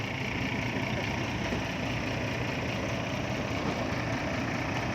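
A Hino truck diesel engine, around 155 horsepower and newly rebuilt, idles steadily at close range on a muddy work site, a continuous low rumble with constant vibration and no pauses.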